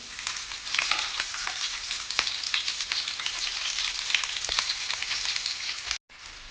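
Curry leaves and green chilies crackle in hot oil in a pan, a dense close sizzle with scattered sharp pops throughout, cutting out briefly near the end, no voices.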